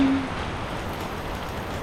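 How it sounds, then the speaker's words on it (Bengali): Heavy rain falling steadily, a dense even hiss of drops with no breaks and no voices. "অনেক বেশি বৃষ্টি হচ্ছে অনেক বেশি বৃষ্টি"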